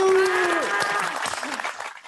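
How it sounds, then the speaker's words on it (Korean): Brief applause from a classroom of second-year students welcoming a guest history teacher, quick clapping following a short spoken call and tapering off within two seconds. "박수!"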